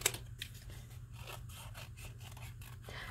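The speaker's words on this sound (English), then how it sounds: "Let's cut this one out." Scissors cutting out a round watercolor Christmas ball painted on paper: a quiet series of crisp snips and rustles, evenly spaced and close by.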